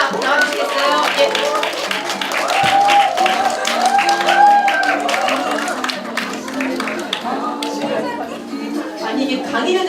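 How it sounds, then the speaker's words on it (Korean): An audience at a school admissions information session claps steadily, a dense warm patter of applause filling the room while voices talk over it. "다시 한번 박수 보내주세요"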